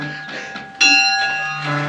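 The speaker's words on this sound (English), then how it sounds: "So there's the bell." A watchtower bell at a historic adobe trading fort is struck once, a sudden bright ring with sustained metallic overtones that slowly decays over a quiet background.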